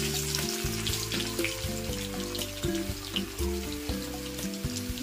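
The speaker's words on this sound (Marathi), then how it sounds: "तेल छान गरम झालं की त्या तेलावर लसूण सोडायचा" Garlic sizzles in hot oil for a shrimp masala, a soft, steady crackling fry close by with faint bubbling pops and no talk.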